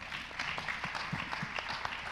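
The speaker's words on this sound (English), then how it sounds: "let's give my panel members another round of applause" An audience at a conference panel session on media and democracy claps for the panel members, a moderately dense round of applause with some individual claps standing out and no speech.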